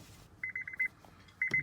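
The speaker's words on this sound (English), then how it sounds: "it's beeping." Honda Pilot key-in-ignition warning chime: a quick train of about eight soft, evenly spaced beeps, a short pause, then another burst of beeps alongside a faint click, heard inside the car.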